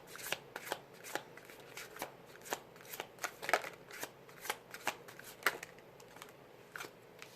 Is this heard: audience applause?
no